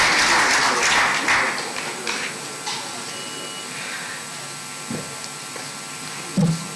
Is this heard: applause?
yes